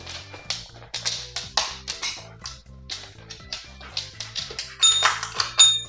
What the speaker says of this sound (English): Go ring the bell.